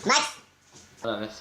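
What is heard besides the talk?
dog making small noises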